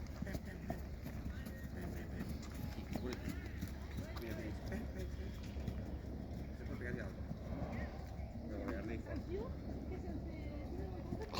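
Horses' hooves clip-clop near a beach in Spain, a continuous rhythmic clatter under people talking throughout, with steady low background rumble.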